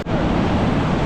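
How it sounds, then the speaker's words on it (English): Ocean surf on a Florida shore rushes in a loud, continuous wash of broadband noise, sounding close and somewhat wind-buffeted, with no voices over it. "Swimming in the ocean"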